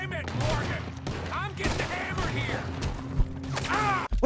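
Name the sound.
gunfire in video game Red Dead Redemption 2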